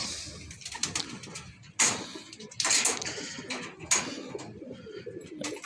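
A pigeon coos nearby in a few soft, throaty bursts, with quiet low background noise and faint rustling between calls.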